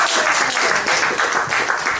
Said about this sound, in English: So, round of applause for Luke.